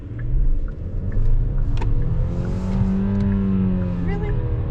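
Engine and drivetrain of a 2021 Genesis G80 heard from inside the cabin as it accelerates with a hesitant transmission, the steady drone rising in pitch partway through.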